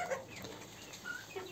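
Chickens in an aviary that also houses pheasants, pecking through scattered feed and giving faint, intermittent clucks and soft calls over a quiet, low background.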